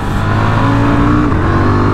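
A KTM 990 Duke motorcycle engine on a 2024 test ride, a loud, steady, dense roar mixed with wind rush, pitch shifting slightly as it pulls.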